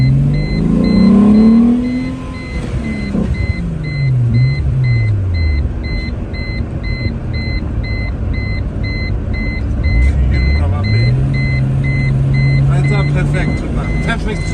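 A VW VR6 sports car engine revs up and down in long sweeping pulls, rising and falling several times, loud and close, with people talking over it and a repeating beeping in the background.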